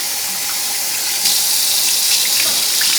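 Tap water runs steadily from a faucet into a bowl while rice is rinsed, a continuous close hissing splash that swells slightly partway through.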